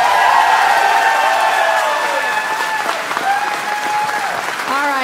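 An audience applauds the winner at a Star Citizen community event, steady loud clapping throughout with some cheering, and a voice speaking over it near the end.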